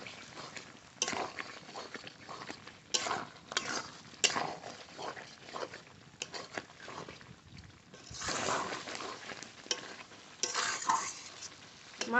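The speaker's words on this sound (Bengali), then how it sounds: "এবার একসঙ্গে কষিয়ে নেব।" Chicken pieces with spices stirred and fried in a pan for palak chicken and chicken curry, giving a steady sizzle with scraping stirs and occasional utensil clatter, close and alone.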